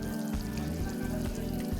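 An egg sizzles in a frying pan in the video game Arctic Eggs, a continuous crackle mixed with a looping low musical tone throughout.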